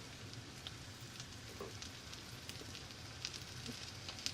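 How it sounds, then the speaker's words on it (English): Plaice fillets dusted in flour seasoned with lemon pepper and salt fry in olive oil and plenty of butter, giving a faint, steady crackling sizzle with scattered small pops and no talking. "And then we fry our plaice"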